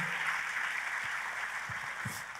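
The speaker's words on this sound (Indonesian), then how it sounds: "Oh, boleh tepuk tangannya yang paling meriah." Church congregation applauding, a steady dense wash of clapping throughout, moderately loud and sustained.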